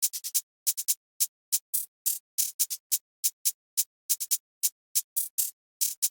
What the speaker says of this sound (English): And this has got the distinct hi-hat drill bounce.